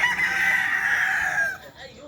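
Texas gamecock rooster kept as a fighting cock in Cavite, Philippines, giving one long crow from close by, loud and clear, fading out after about a second and a half over faint background noise.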